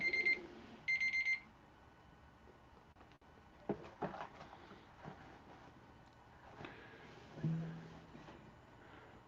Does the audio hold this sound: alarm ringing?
yes